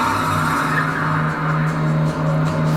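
A car drives hard with a sustained tire squeal and engine roar, loud and close, swelling slightly over a few seconds with no speech.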